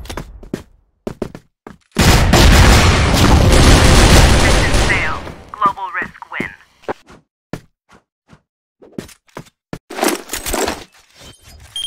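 Grenade explosions and gunfire in the shooter game Crossfire: a long heavy blast rumbles for several seconds amid sharp gunshots, followed by scattered shots and another burst later, with voices calling out between them.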